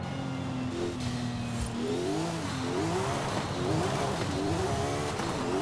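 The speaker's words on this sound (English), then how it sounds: "Porsche engine with the twin turbos now. Very whiny gearbox now as well." Porsche 911 twin-turbo engine in a racing game, revving and climbing through the gears with a whiny gearbox, steady engine drone rising in pitch over several seconds, heard alone and fairly loud.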